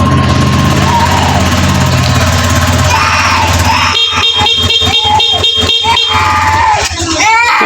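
Honda Click 150 scooter with its body panel removed, engine cranking and catching into a loud, steady idle with a rhythmic pulsing chatter, close by, amid background crowd noise and voices.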